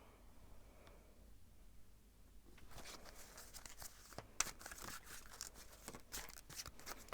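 Tarot cards are shuffled softly and quietly, a stretch of papery riffling and flicking after a near-silent start.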